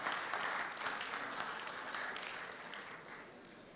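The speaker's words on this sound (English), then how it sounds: "Give him a round of applause." Audience applause welcoming Dr. Wan Muhammad Nazrol bin Wan Muhammad Nasir to the stage at a UMK World Philosophy Day event, a steady wash of clapping that fades slightly toward the end, heard from a moderate distance.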